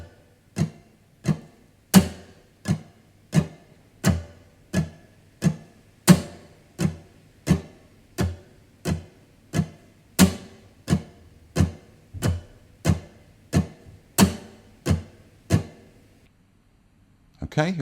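An acoustic guitar is struck percussively in a steady 6/8 pattern of bass, mid, mid, through, and each hit is a sharp muted thump with a short decay. About two dozen even strokes follow one another in a slow, regular sway.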